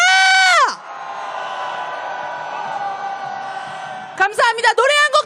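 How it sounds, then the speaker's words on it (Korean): A protest crowd at an impeachment march roars a collective cheer on cue, a sustained loud wash of voices lasting several seconds, framed by a speaker's voice before and after. "함성 한번 질러보겠습니다"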